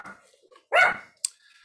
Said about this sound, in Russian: собака присоединилась к нашему вебинару